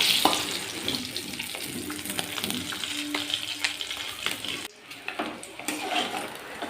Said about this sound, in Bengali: একটা দিক হয়ে গেছে এবারে অন্য দিকটাও ভেজে নিচ্ছি